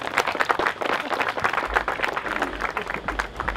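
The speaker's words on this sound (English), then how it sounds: "please give them a round of applause" Audience applause at a beach wedding ceremony, a lively crowd clapping continuously with scattered voices, fairly close, with low wind rumble building in the second half.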